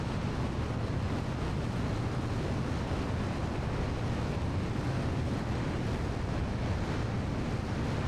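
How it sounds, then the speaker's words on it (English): A jet's afterburner roars in Microsoft Flight Simulator: a loud, steady, broadband rush that holds unbroken at an even level throughout, with no voices over it. "Wait for the afterburner"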